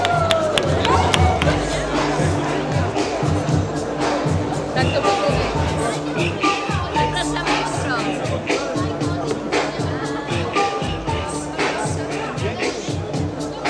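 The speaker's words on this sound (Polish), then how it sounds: "Oklaski dla odważnego!" A crowd at the Tour Salon 2010 trade fair applauds and cheers a brave contestant at a stage show. The clapping and cheering are steady and fairly loud, mixed with crowd babble and an announcer's voice.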